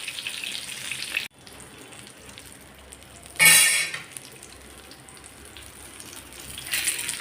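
Slices of brinjal fry on a hot tawa, giving a soft continuous sizzle with brief louder crackling bursts and a short near-silent gap, all without talk.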